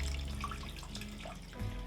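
Filtered water runs into a pot for homemade bone broth, a steady close splashing stream heard alone under a low background hum.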